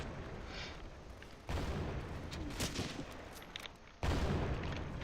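Mortar and artillery fire in the Close Combat war game, a couple of sharp booming blasts over a noisy rumbling battle bed, loud and close, with no voices.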